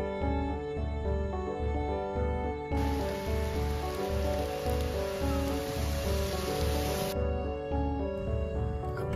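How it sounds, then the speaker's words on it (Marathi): Rain pours at the Matheran hill station, a steady broadband hiss that swells in for about four seconds in the middle and then drops away, over a constant low tonal hum and drone. "पाऊस बघा कसं वाढलं, तुम्हाला दाखवतो जरा."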